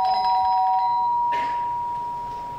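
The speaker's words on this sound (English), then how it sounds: "Let's go and ring the bell." A single electronic doorbell chime at a house door, one clear tone that rings briefly and fades out, with no talk over it.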